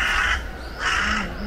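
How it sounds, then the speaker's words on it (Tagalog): A crow caws twice, loud and close, with a pause between calls, outdoors beside rice fields near a rural train station in summer. "Oo, uwak yun."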